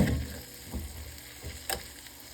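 A pork chop sizzles in a pan while butter is basted over it, a close, steady frying hiss broken by a few soft spoon clinks and spatters, with no talk.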